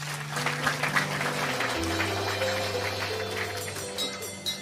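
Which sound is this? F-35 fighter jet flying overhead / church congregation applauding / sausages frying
church congregation applauding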